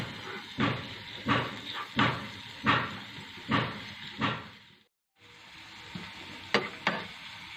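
Coriander and garlic fry in hot ghee in a pan, a continuous sizzle broken by regular stirring scrapes about once a second, then a brief silence before the sizzling resumes with a few sharper clinks.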